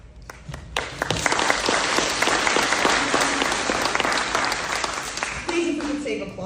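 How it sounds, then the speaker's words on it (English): Audience applause at a Peoria mayoral debate, a dense sustained wash of clapping that swells after a second and carries on steadily, with a voice briefly audible near the end. "if we could save applause just till the end"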